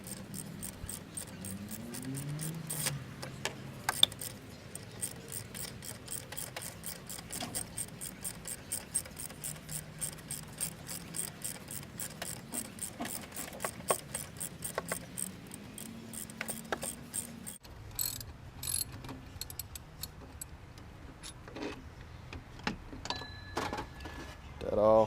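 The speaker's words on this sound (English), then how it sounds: "Go ahead and take this off. 15mm socket." Quiet mechanical clicking, rubbing and scraping from a 15mm socket on a ratchet loosening a bolt on a Dodge Charger during water pump work, running in uneven bursts close to the microphone.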